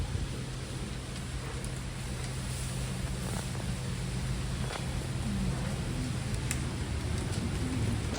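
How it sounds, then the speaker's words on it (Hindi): Light rain falls in a continuous, even hiss of patter that stays moderately quiet and unbroken for the whole stretch, with no one speaking. "हल्का हल्का बारिश भी होती"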